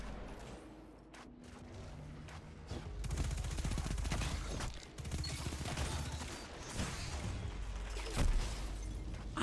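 Rapid bursts of opponents' gunfire in an online shooter game, with Death Adder weapons in the mix, crackling loud and dense over a steady low rumble, with occasional heavier blasts.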